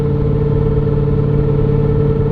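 An LS-swapped car nicknamed Crispy Chicken cruises at night after a tune, its loud gear whine riding over a steady, droning engine rumble that stays close and constant throughout.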